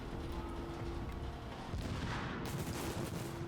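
Sticky bomb explosions and gunfire in a gunfight in The Division, a dense continuous barrage of booming blasts and rattling shots at steady loudness for the whole stretch, with no clear gaps between hits.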